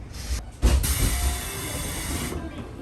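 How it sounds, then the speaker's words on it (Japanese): A JR Tokai 373-series train pulls into platform 4 at Kofu station. A sharp burst of hiss, like air brakes, comes over a low rolling rumble that settles into quieter idling as it stops. "列車は甲府駅の4番線に到着します。"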